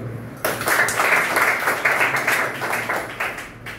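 Audience clapping at a public gathering in Tirupati, a broad, steady wash of applause that starts abruptly and fades slightly toward the end, with a faint low hum underneath.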